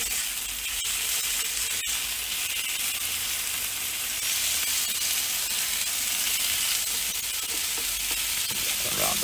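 Burgers sizzle on a grill burning South African black wattle charcoal, a loud, constant hiss and crackle of fat close up, with a couple of sharp ticks from handling.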